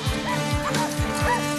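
Cartoon dogs yip and bark in a snowy setting, with about four quick high yelps in a row over a steady background tone.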